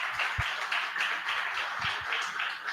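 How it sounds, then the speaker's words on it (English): A small audience at a research talk claps in a soft, steady round of applause, with scattered individual claps standing out. "I would like a round of applause to Riikku-Pekka"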